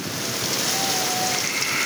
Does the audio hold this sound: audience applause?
no